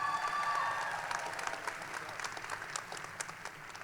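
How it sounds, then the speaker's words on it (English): Graduating class and guests applaud at a university commencement in a historic building, a broad, dense wash of clapping that starts full and slowly thins out, heard from a distance in a large hall. "Give yourselves a round of applause."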